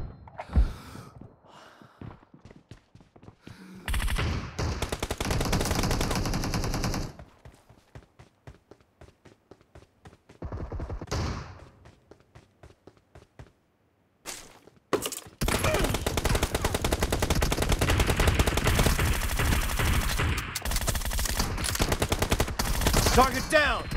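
Video game gunfire from a PUBG team deathmatch, with dense bursts of rapid shots in loud stretches separated by quieter gaps, heavy sustained firing through the second half.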